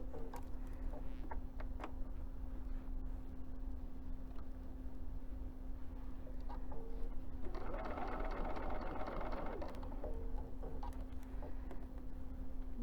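A sewing machine stitches a spring chicken basket, a low, steady hum with a constant tone. A brighter burst of stitching rises near the end, and no voices are heard.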